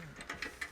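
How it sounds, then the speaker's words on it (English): Bracket screws being snugged with a 6mm Allen key while mounting a TV lift: three quick, faint metallic clicks and scrapes spaced about a fifth of a second apart, close and quiet, with no talking. "we'll tighten these with a 6mm Allen key"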